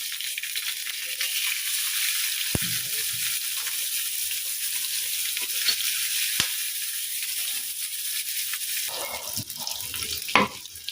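Onion and spices (ginger, garlic, turmeric, chili, cumin, salt) frying in a pan for a fish curry, a continuous close hiss of sizzling oil with a few sharp clicks and faint stirring near the end.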